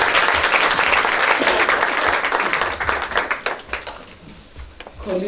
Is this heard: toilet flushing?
no